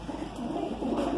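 A Madrasi pigeon, one of several offered for sale in Mumbai, coos in a soft, low, continuous murmur that swells slightly toward the end, close by with no talking.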